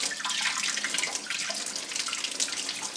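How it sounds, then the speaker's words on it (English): Raw shrimp rinsed under a running kitchen tap while being cleaned for aguachiles, a steady close splashing hiss of water pouring over the shellfish, alone without talk. "So what I do is I start rinsing it to help me clean the shrimp."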